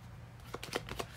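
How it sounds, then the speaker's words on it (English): Tarot cards are shuffled and drawn in a quick burst of soft, close papery flicks and slaps lasting about a second, with no voices. "Let's get a few cards for Scorpio, please."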